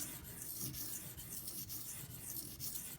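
Steady rasping strokes of a Benchmade Mini Griptilian D2 knife blade drawn across a sharpening stone, repeated back and forth in an even rhythm, close and continuous with no voices.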